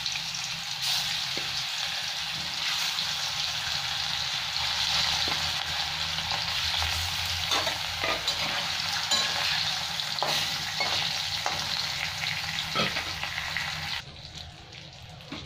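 Turmeric-coated fish frying in oil, with a continuous dense sizzle and occasional stirring clicks, ending abruptly as the frying quiets.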